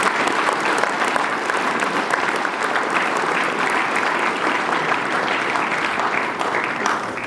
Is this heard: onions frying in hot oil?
no